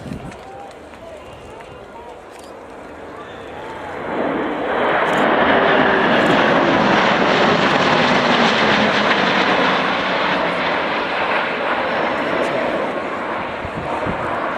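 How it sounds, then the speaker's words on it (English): A USAF Boeing C-17 Globemaster III makes a high-speed pass at an air display, its jet roar swelling from a distant rumble to a loud, sustained wash as it runs in from the right, with a commentator talking over it. "running in from the right now at high speed, the Boeing C17 Globemaster III of the United States Air Force"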